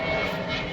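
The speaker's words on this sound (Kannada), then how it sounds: "ಫ್ಲೈಟ್ ಹೋಗ್ತಾ ಇದೆ ಮೇಲೆ." An airplane flies overhead during a road trip, a steady, broad engine roar heard only briefly.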